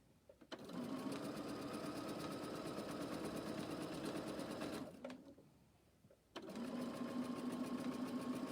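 A sewing machine stitches with variegated thread, a close, steady mechanical whirr that runs for several seconds, stops briefly, then starts up again.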